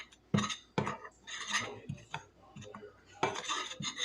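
Dry baking ingredients, baking soda, salt, cinnamon and nutmeg, stirred in a bowl with a utensil, giving a series of close scraping, clinking strokes against the bowl in uneven bursts.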